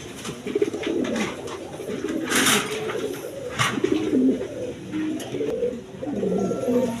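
A pair of Bold Boulder fancy pigeons coo repeatedly in low, rolling phrases close by, with brief rustles and faint background noise, no talking.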